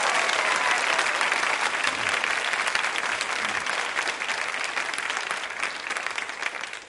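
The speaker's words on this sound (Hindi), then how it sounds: "तालियां बजाइए एक बार फिर इन सभी के लिए" Studio audience at a women's quiz show applauds the participants, a loud, sustained burst of many hands clapping that keeps an even crackling density and tapers off slightly toward the end.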